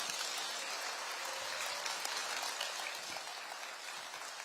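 Sustained audience applause for Prime Minister Kim at a government policy briefing in Jeonbuk, a steady even wash of many hands clapping at moderate distance with no voices over it.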